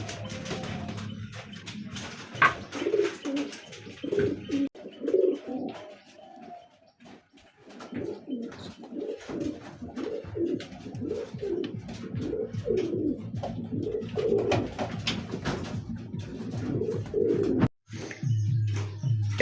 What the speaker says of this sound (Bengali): একটা কবুতর দেখেন